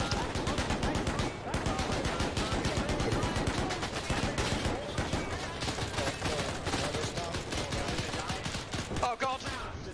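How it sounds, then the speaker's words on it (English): Rapid machine gun fire from a hill in a military video game, loud and continuous with dense overlapping bursts for the full duration and faint voices mixed in. "there's a machine gun on the hill!"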